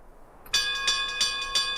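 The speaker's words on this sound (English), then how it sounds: "A violent ringing of a bell began to echo throughout the camp." A camp watchtower bell in the video game Lost Odyssey begins ringing violently, a sudden bright metallic clang followed by steady repeated strikes roughly every third of a second, each ringing on with sustained tones.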